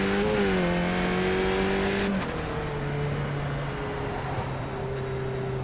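Engine drones from race cars in a racing video game hold steady pitches, then one tone drops sharply partway through as a car draws past. A lower engine hum carries on afterward, with no voices.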